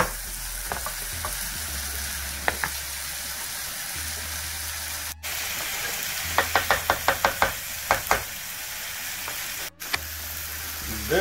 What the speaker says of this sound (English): Go for about a minute or two as tomato gets cooked here.